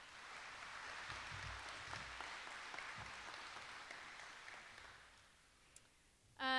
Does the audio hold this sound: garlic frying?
no